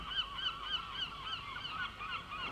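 Seagulls cry by the sea in a steady run of short, repeated calls, fairly faint and fairly distant, with nobody speaking.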